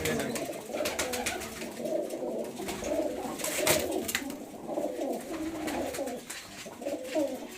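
Pigeons kept by a pigeon fancier in Kudana, Shamli district, coo in steady, soft, layered murmurs, with scattered faint clicks and rustles.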